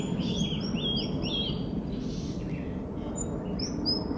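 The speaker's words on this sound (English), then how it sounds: "Trying to attract the birds with the bird call on the app." A bird call played from a phone app near Darwin, a series of repeated high chirping notes, clear and moderately loud, over a steady outdoor background hiss with no voices.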